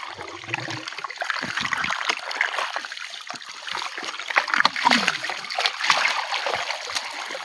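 Water gushes and splashes out of a pipe into an outdoor channel, a continuous close rushing splatter with bursts of sloshing and a brief voice near the start.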